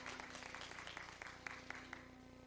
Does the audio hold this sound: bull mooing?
no